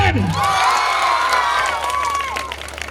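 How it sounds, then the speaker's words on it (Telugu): Audience at a high school anniversary celebration claps and cheers, with loud whoops and children's shouts rising over steady applause, the cheering sliding and fading toward the end. "అందుకే చప్పట్లు చేయండి శాంక్షన్."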